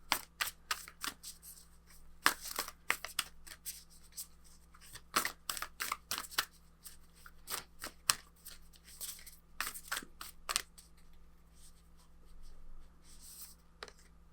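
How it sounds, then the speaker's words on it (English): Oracle cards being shuffled and drawn, with quick papery riffles and flicks coming in bursts at close range, separated by short quiet gaps and soft handling rustles. "let's go ahead and get some more oracle cards for you"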